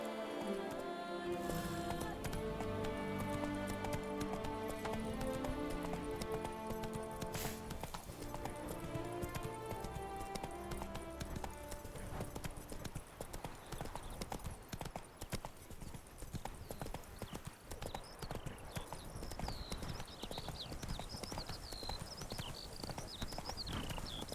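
Roach the horse clip-clops along in The Witcher 3, a steady run of hoofbeats under game music, with a brief whinny near the start and the rhythm continuing throughout.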